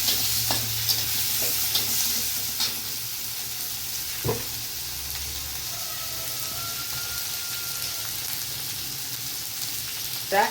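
Onion paste and chopped tomato fry in a pan for a long bean omelette curry, a steady loud sizzle with occasional spoon knocks and scrapes against the pan.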